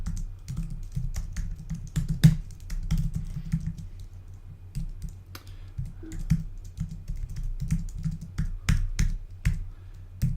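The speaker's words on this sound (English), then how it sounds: "Excuse my terrible typing today." Typing on a computer keyboard, close and fairly loud, with irregular bursts of clicking keystrokes and short pauses throughout, no talking.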